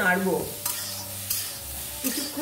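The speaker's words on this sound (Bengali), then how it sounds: "কড়াই গরমে বসিয়েছি, তার মধ্যে পুরো শুধু মটরশুঁটি কাঁচা লঙ্কা দিয়ে দিলাম" Green peas and green chillies in a hot wok are stirred, with a few scraping spatula strokes over a soft, steady sizzle.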